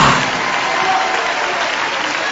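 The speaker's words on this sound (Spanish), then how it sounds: "Dale un aplauso a Jesucristo como que fuera el último aplauso de tu vida." A congregation at a church service bursts into sustained, loud applause, a dense wash of clapping that holds steady without letup.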